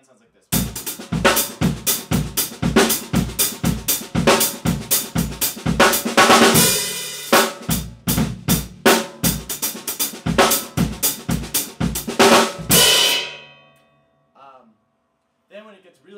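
A drum kit plays a steady stream of triplet hits with bass drum thumps, loud and busy for about thirteen seconds before stopping; faint sounds follow.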